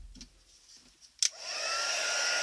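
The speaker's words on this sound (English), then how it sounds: "We need to use our heat tool again." A few soft taps and handling noises, a click, then an embossing heat tool starts up and blows a steady, close, airy roar while setting glitter powder on a card.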